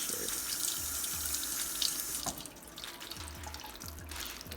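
Water pours steadily into a small decorative home waterfall with rocks, making a continuous close splashing rush that eases slightly partway through, with no talking.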